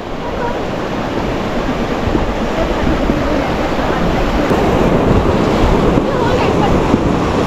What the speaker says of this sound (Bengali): সামনে আবার খরস্রোতা নদী চলে এসছে।